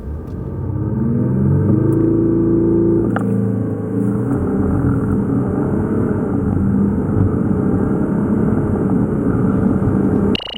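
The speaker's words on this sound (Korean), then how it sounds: "여기서 잠시 르반테 디젤의 가속 성능에 대해서 확인해 볼까요?" A 2018 Maserati Levante diesel SUV accelerates hard, its engine rumble building into a loud, sustained drone as the revs rise, heard from close by with no one talking.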